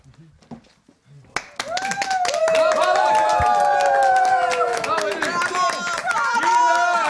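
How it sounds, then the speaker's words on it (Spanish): Audience applause bursts in after a quiet start and holds steady, dense and loud, mixed with crowd noise and voices over it. "Aha, aplauz."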